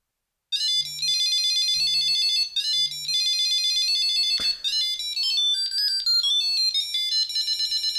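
A Tile Mate Bluetooth tracker rings nearby, playing a bright, repeating electronic melody of chiming tones with a faint low buzz pulsing three times early on, continuing loudly and steadily.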